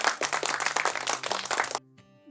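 A quick run of steady hand claps in a children's action-word lesson rings out over music and a voice, then stops abruptly, leaving a faint tone.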